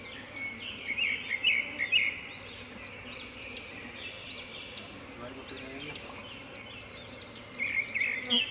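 A swarm of honeybees buzzes steadily around a hive box that has been forced open, a dense continuous drone that swells in louder bursts, with a voice talking over it.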